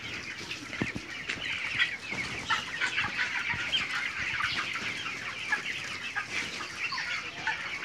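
Chickens at a poultry farm cluck steadily around an automated watering system, a dense, continuous chorus of nearby birds with occasional wing flaps and no talking.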